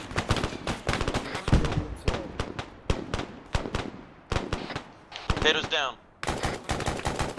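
Gunfire crackles through a firefight at an embassy attack in Arma 3, with repeated sharp shots and bursts spread across the scene. Voices talk over the shooting, and one short pause breaks the fire.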